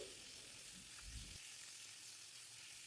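Rohu fish frying in a pan gives a steady, fairly faint hiss of sizzling oil that runs through the whole stretch with no voices over it.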